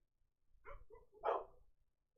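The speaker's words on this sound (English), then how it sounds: "The dog's out there barking." A dog barks outside in a yard, two or three quick muffled woofs heard at a distance, then quiet.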